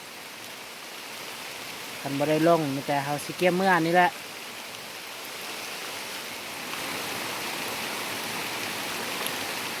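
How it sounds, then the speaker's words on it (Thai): Heavy rain pours steadily over a garden plantation as a constant hiss, while someone speaks briefly over it near the start. "นี่ฝนตกโคตรหลายเลย"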